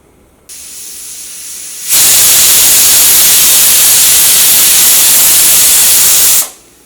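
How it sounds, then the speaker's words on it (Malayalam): A pressure cooker whistle: a loud, steady hiss of steam bursts out and holds for several seconds before cutting off, preceded by a quieter high whine. "ഇപ്പോൾ കുക്കറിൽ നിന്ന് 2 വിസിൽ വന്നിട്ടുണ്ട്"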